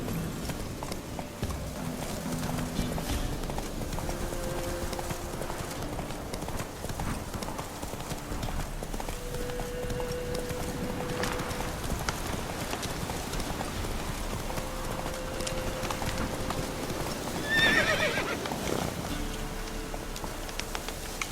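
Hooves of Roach, Geralt's horse in The Witcher 3: Wild Hunt, pounding in a fast, steady gallop through the whole stretch, set under a constant bed of game ambience and occasional musical tones, with a brief louder burst near the end.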